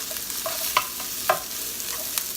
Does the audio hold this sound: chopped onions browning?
yes